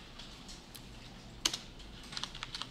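Keys tapped on a computer keyboard while entering a command, a quiet run of scattered clicks with one louder keystroke midway and a quick burst of typing near the end, close up with no talking.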